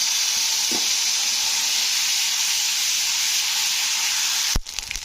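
Ginger paste fries in oil in a pan with a loud, constant hissing sizzle that holds evenly, then breaks off abruptly near the end with a brief clatter.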